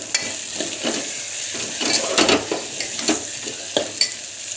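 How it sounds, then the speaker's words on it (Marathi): Soaked peas and peanuts tossed into hot masala for spicy khichdi and stirred, giving a close, continuous sizzle with repeated spoon scrapes against the pot. "आता भिजवलेले वाटाणे टाकूया आपण, भिजवलेले शेंगदाणे"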